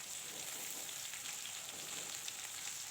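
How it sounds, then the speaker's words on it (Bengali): Chopped tomato fries in a pan with onion, a little ginger and green chillies, giving a soft, steady, even sizzle that carries on without a break. "এবার দিয়ে দেবো মিডিয়াম সাইজের একটা টমেটো কুচি"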